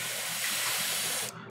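Badger airbrush cleaner, a mix of water and isopropyl alcohol, spraying through an airbrush while it still flushes out purple paint; a steady close hiss that cuts off sharply near the end.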